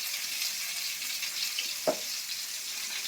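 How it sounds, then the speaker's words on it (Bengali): Cumin seeds fry in a wok with a faint, even sizzle, interrupted once by a single dull knock against the pan. "কড়ার মধ্যে জিরে দিয়ে দেবো"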